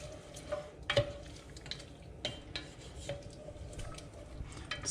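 A spoon stirs yellow pepper rice seasoned with a little turmeric in a pan, making soft scrapes and light clinks of utensil on metal. The sound is quiet and close, with a few sharper taps.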